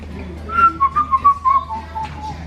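A short, bright whistled tune of several separate notes, loud and close, with faint background noise.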